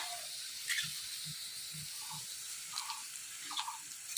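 Ginger and green chilies sizzling in a frying pan with fried potatoes in a Bengali village kitchen, a faint continuous hiss with a few soft stirring knocks and scrapes.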